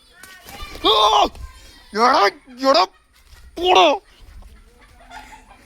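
A chicken gives several loud, close clucking squawks in uneven bursts, with faint voices in the background.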